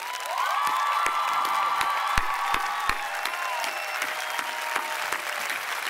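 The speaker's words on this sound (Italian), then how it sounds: "Vorrei fare un applauso a questa terra meravigliosa." Large outdoor concert crowd at a live show at RisorgiMarche, applauding steadily and loudly with sharp individual claps standing out and scattered whistles and cheers over the dense clapping.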